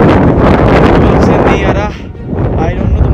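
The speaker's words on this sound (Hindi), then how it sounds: "क्योंकि ना बहुत ज्यादा हवा चल रही है, नॉइज बहुत है।" Strong wind gusts batter the microphone outdoors in Kashmir, producing loud rumbling buffets that dip briefly then return, with a voice talking underneath.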